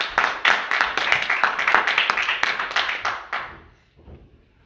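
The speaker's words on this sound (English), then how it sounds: "Let's give the Lord a hand clap of praise." A church congregation claps hands in praise, loud rhythmic clapping in a rapid, even beat that continues for several seconds, then stops abruptly and leaves a few faint sounds in the room.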